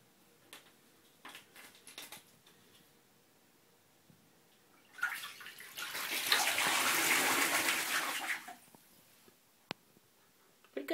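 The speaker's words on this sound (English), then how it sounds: "That's a lot of water. Whoa. Pretty splashy." A pet bird splashes in bath water, a loud continuous burst of splashing and spraying lasting a few seconds, preceded and followed by quieter scattered drips and small splashes.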